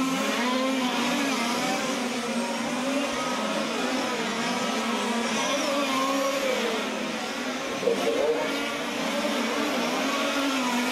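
Large-scale RC touring cars racing on a track in Valencia during a main final, their engines producing a constant loud, high buzzing drone with shifting pitch as several cars circle together.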